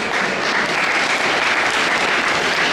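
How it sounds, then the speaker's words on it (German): A crowd at a volunteer fire brigade open day in Dahn, Palatinate, applauds after a protective-clothing demonstration, an even, steady stretch of clapping from many hands. "Danke für den Applaus."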